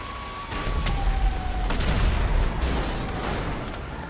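Gunfire in a video game, a dense barrage of shots and booms filling the scene, fairly loud and continuous with sharp bursts standing out, no voices over it.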